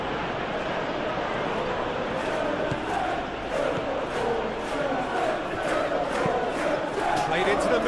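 A stadium crowd in the PES 21 football video game, a Premier League match of Manchester United against Brentford, roars steadily at moderate volume as a continuous wash of noise, with no one talking.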